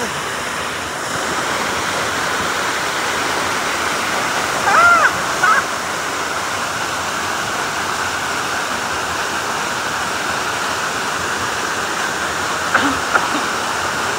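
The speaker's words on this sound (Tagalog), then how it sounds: "Bolinao Falls." Steady broadband roar of Bolinao Falls in Pangasinan, Philippines, a constant rushing wash of falling water with brief voices and a couple of small knocks breaking through.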